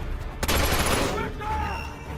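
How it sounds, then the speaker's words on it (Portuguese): Gunfire in the stealth action game Splinter Cell: Conviction, a sudden loud burst of rapid shots lasting under a second that then trails off into echoing reverberation. "Só tiroteio."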